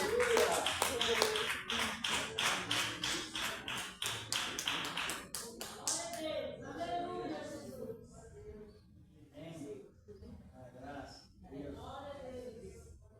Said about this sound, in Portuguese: Receber o servo de Deus com a salva de palmas.